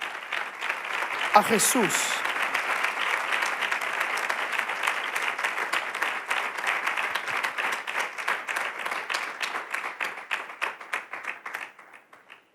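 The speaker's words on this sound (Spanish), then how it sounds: "Dele el mejor de los aplausos" A church congregation gives a long round of applause during a sermon, dense clapping that holds steady and then thins out at the end, with a brief spoken phrase near the start.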